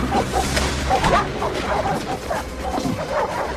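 Several dogs bark and yip excitedly at a military interrogation setting, overlapping barks mixed with whimpers, loud and continuous against a rumbling background.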